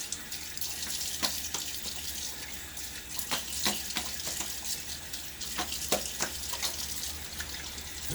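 A tap runs steadily into a sink while a safety razor is rinsed between shaving passes, with a continuous splashing wash and sharper clicks and taps of the razor against the basin scattered throughout.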